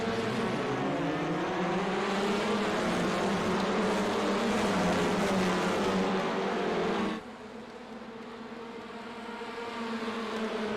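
Race cars pulling away at the start of a race at Mosport in a racing video game, a dense, loud buzzing engine drone from many cars that drops in level partway through and then slowly builds again.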